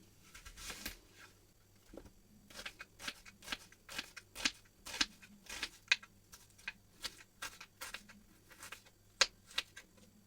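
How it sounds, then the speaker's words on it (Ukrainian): A knife slices through an onion into half-rings on a cutting board. The soft, crisp cuts land close by in an irregular rhythm, a dozen or more quiet chops separated by brief pauses, with no talking. "Цибулю для печінки нарізаємо півкільцями."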